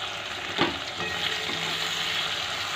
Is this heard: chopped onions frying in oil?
yes